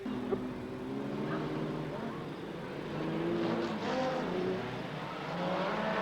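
Modified sedan race cars roar around Mid Western Speedway in Darlington during a Golden Helmet event, engines droning and shifting in pitch at a distance beneath a commentator's talk.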